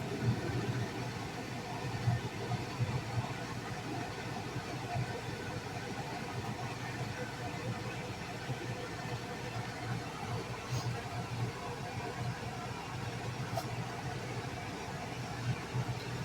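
A ductless RV air conditioner runs with a steady, muffled low hum and whooshing hiss, quieted by a downspout muffler stuffed with insulation, sounding continuous and moderately close with no talking.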